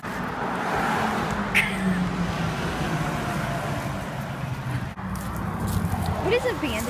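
Cars pass along a road beside a park, a continuous close traffic rumble with a swelling whoosh, while people talk over it.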